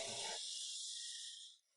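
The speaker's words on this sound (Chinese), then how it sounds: "放2克萌萌的青提冰， 倒气泡水" Sparkling water is poured into a cup over green grape ice, giving a brief bright fizzing hiss that fades away within two seconds, faint and alone.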